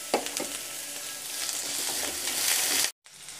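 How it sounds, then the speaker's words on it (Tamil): Shredded cabbage and onion sauté in a hot pan, giving a steady, close sizzle with a few stirring scrapes, growing louder before cutting off abruptly near the end. "வெங்காயம் லேசாக வதங்கினதும் முட்டைக்கோஸையும் போட்டு நல்லா"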